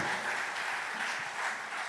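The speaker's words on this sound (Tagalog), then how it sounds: "Pumalakpak muna tayo ng malakas sa ating mahal na Panginoon." A church congregation claps loudly together during a live-streamed worship service, a dense, steady wash of applause with no voices standing out.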